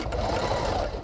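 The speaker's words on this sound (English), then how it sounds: "you can find a sewing machine and everything you need to build a wig inside of his" A sewing machine used for building wigs runs in a steady, continuous mechanical whir that stays close and fairly loud throughout.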